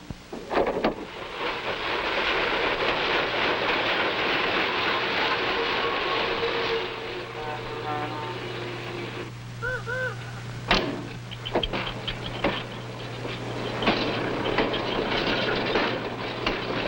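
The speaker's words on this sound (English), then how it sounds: "Electronic freight yard, the frontier yard of the New York Central at Buffalo" Freight trains roll through the New York Central's frontier yard at Buffalo, a dense rumble of railcars with clanks, squeals and a sustained low hum, plus a short tonal signal midway, all heard near and loud without speech.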